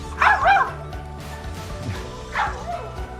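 Tombot robotic puppy giving two short, yippy barks about two seconds apart, close and clear, responding to a voice command.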